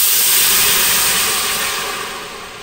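A full cup of red wine goes into a hot pot to deglaze it for a beef pot roast, setting off a loud, bright steamy sizzle that slowly fades as the liquid settles.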